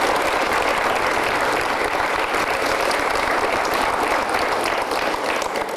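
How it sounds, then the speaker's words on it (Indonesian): Sustained, dense applause from a crowd honoring Ibu Narsi, loud and steady throughout with no break or talk over it. "Boleh tepuk tangan untuk Ibu Narsi"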